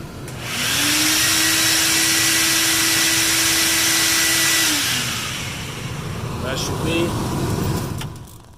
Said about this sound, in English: and now we turn the vacuum on